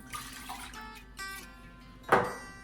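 Warm milk pours into a bowl for donut dough, a soft liquid splash with a brighter burst of pouring near the end, close and fairly quiet.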